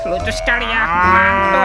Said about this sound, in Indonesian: Wah, ada hewan sapi.